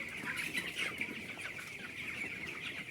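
Broiler chicks in a poultry shed, about sixteen days old, gather at their water containers to drink, with a steady chorus of high cheeping and soft clucking filling the space throughout.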